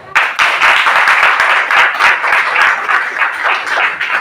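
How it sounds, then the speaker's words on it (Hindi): An audience at a business meeting in Moradabad claps steadily and loudly for several seconds, a dense close patter of many hands with no talk over it. "उनके लिए थोड़ी तालियां हो जाए।"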